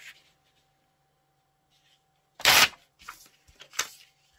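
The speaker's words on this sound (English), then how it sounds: "because I'd like to cut that lavender out" Scissors cut a lavender picture out of a magazine page: a short loud paper snip and rustle after a quiet pause, followed by a few smaller crisp cuts, close up.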